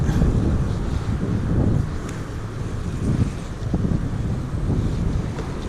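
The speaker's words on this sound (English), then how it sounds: "that wind is whooping" Strong wind gusts over a lake during crappie fishing from a boat, buffeting the microphone with a loud, low, rumbling roar that surges and fades without pause. There is no talking.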